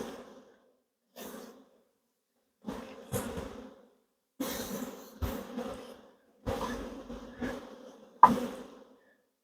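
Honeybees buzz in short, separate bursts as they are brushed off a hive frame in an apiary. Each burst is moderate and close, with brief quiet gaps between them, six or seven passes in all.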